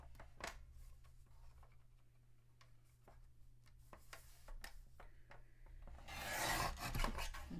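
Card stock for a gift box is cut down to size, with quiet, close scraping and ticking scoring strokes under a low hum, ending in a louder, rasping cut near the end.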